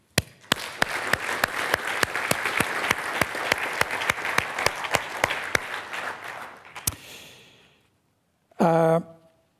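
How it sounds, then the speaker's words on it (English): An audience at a conference's plenary closing session applauds with a burst of separate, crisp claps that thin out and fade after about seven seconds, followed by a brief voice. "They deserve, I think, an applause."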